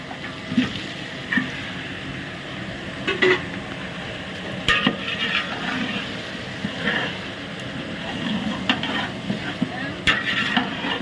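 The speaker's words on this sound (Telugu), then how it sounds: "ఇప్పుడు చికెన్ వేసుకోవాలి" Chicken pieces tossed and stirred in a large pot of hot oil with ginger paste for a big batch of Kurnool-style chicken dum biryani, giving a steady sizzle with scraping stirs and clatter recurring throughout.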